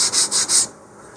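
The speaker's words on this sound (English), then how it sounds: "I'm going to start by just sanding in the edges a little bit" Three quick, close rasping strokes of sandpaper across the edge of a balsa wood model rocket fin, each a short hiss, followed by near silence.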